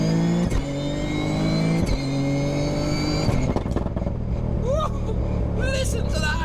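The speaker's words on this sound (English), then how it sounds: "Listen to that anti-lag." A Toyota GR Yaris engine in anti-lag mode, loud and close from inside the car, holds a steady droning rev, then drops off throttle into rougher burbling, with voices talking over the later part.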